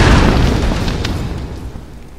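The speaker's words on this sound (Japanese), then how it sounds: "これでやると爆発する" A single loud explosion from igniting gas in Tomb Raider Definitive Edition booms out at the start, then its low rumble slowly decays over the next two seconds.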